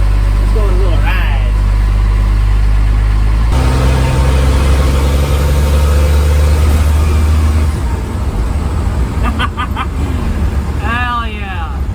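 A repaired truck engine, a Cummins swap, runs steadily with a low rumble as the ride gets under way, idling and then pulling off. Voices come and go over it throughout.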